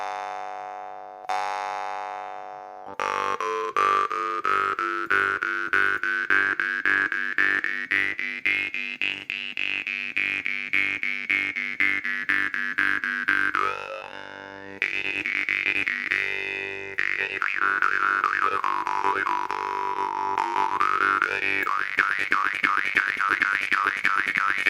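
A newly smoothed and cleaned morchang jaw harp twangs in a fast, rhythmic stream of buzzy plucks with a shifting, vowel-like resonance, played close and alone for over twenty seconds.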